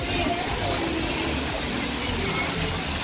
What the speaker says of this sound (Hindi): ऐसा लग रहा है पहाड़ से पानी गिर रहा है, वाह झरना लग रहा है बिल्कुल